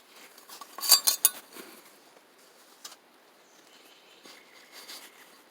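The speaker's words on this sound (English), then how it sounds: "This is a stove that I've had for a very long time." An old camping stove is handled outdoors, its metal parts giving a quick cluster of light clinks and rattles, then scattered faint taps and scrapes amid quiet surroundings.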